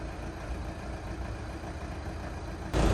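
A Volkswagen Passat engine runs steadily while driving up a mountain road in Switzerland, a continuous low drone that swells louder in the final moment.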